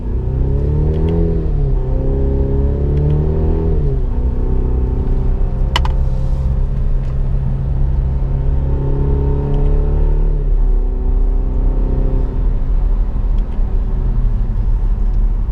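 Car with a manual-mode gearbox driving in real time, engine rumbling loudly and steadily, pitch climbing and dropping through several gear changes, close and continuous with no talk.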